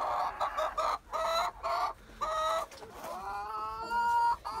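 A rooster in a backyard coop gives a run of short, loud, close clucks, then a longer drawn-out call, with no other sound.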